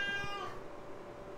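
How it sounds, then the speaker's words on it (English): Pet cat meowing in complaint indoors, a short faint wavering cry near the start fading into quiet room background. "my kitty cat's complaining"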